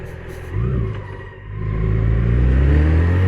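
A BMW K 1600 GTL motorcycle pulls away from about 15 km/h in second gear, its engine rumble swelling smoothly into a rising, sustained growl, loud and close with wind noise.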